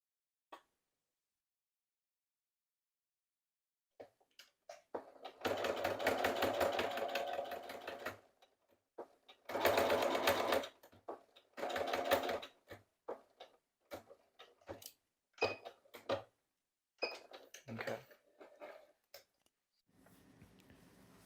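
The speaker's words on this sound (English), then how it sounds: "my sewing machine." A domestic sewing machine stitches a fabric seam in several bursts, two long runs and a string of shorter start-stop spurts, with small clicks and handling noises between them, close and alone without talk.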